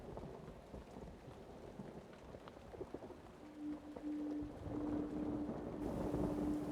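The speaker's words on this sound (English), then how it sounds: "Look, it's raining." Rain falling in the video game Uru: Complete Chronicles, a steady soft hiss of rainfall that swells slightly louder toward the end, with a faint sustained tone joining midway.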